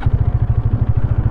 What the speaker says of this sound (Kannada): ಇಂಜಿನ ಸೌಂಡ್ ಈ ಥರ ಕೇಳಿಸುತ್ತೆ